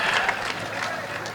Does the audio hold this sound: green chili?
no